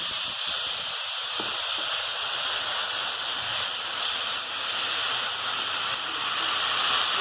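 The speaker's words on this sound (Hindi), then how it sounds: "साथ ही मैं थोड़ा सा पानी डालूंगी इसमें।" Water is poured into a cooking chicken shashlik gravy, making a steady loud rushing hiss and bubbling that runs continuously for several seconds, close up and alone.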